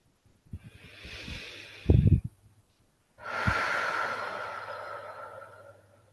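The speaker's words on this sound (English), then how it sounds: "deep breathing" Deep, slow breathing during a past life regression session: a sharp snort-like burst of breath, then a long, steady exhale rushing out, close and fairly quiet with no speech.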